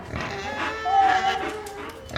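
A pig gives a short, nasal squeal up close, with faint voices and farmyard noise around it.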